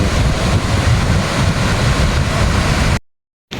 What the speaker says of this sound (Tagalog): napakadelikado na ng alon dito sa rock formation